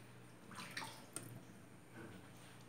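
Warm water running and splashing for a Yorkshire terrier puppy's first bath, a soft steady pour with brief louder splashes, close by and fairly quiet, with no talking.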